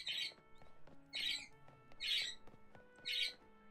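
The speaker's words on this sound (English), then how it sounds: "My budgies are being very loud tonight." Pet budgies indoors at night giving four sharp, loud squawks at roughly even intervals, with faint chirps and low background sounds between them.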